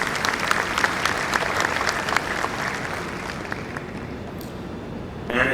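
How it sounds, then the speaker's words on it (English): Audience at a police medal day ceremony claps in a sustained, fairly loud round with some distinct sharp claps, gradually fading before a small swell at the end. "And yes, you can clap for that."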